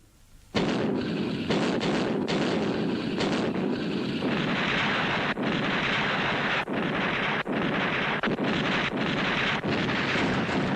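Heavy battlefield gunfire in a war film about the Sino-Vietnamese border conflict, with tank cannon fire: continuous loud booming and roaring blasts with sharp repeated reports, dense and close, with no voices over it.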